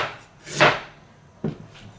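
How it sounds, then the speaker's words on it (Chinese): A knife slices through green onion on a cutting board, giving two separate cutting impacts with a pause between them. They are close and moderately loud, with no talk. "大葱给它切片"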